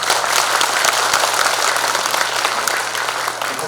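Audience at a Democratic Party regional delegates' convention applauding steadily, a dense, even wash of many hands clapping at close range throughout, with no talk over it.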